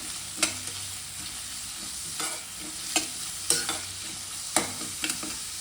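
Onions sautéing and being stirred in a pan for pepper chicken dry, a steady close sizzle broken by sharp scraping stir strokes roughly every second, with no voices.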